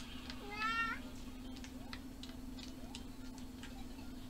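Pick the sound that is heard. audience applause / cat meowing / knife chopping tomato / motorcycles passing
cat meowing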